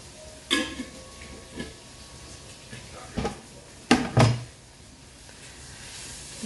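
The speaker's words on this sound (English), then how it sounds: "Just keep giving that a bit of a stir. Keep that moving in the pan so that the vegetables don't catch." Vegetables frying in a pan with parsley, stirred with a utensil: a few scattered scrapes and knocks against the pan over a low, steady background.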